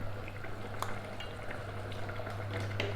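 Garam masala is stirred through beef dum biryani in a pot, a soft close scraping and shuffling of spoon against rice over a low steady hum, faint and without talk.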